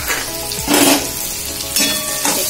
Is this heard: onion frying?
yes